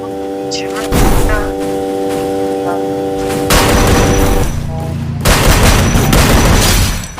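Gunfire in a shooting video game: loud bursts of rapid shots and heavy booms repeat across several seconds, over steady game tones, with people talking over the action.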